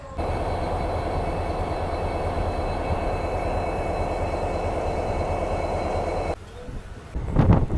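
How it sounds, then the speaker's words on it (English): A passenger train pulls out of Rameswaram station on the route toward Kanyakumari and Pamban, heard from inside as a steady, loud rumble and rattle of wheels, then a sudden drop and a gusty noise at the end. "So we have departed finally Rameshwaram, station code RMM dot on time"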